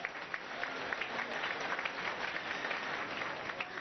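A church congregation claps together in sustained, dense applause at a Sunday service, steady and fairly distant, with no talking over it.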